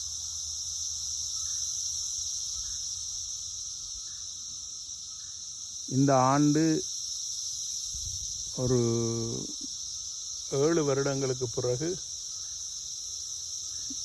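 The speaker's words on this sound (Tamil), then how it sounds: "சில்வண்டினுடைய ஓசை உங்களுக்கு எல்லாம் கேட்குதா?" Cicadas drone steadily nearby, a continuous high-pitched shrill buzz that holds through the whole recording while someone speaks in brief bursts over it.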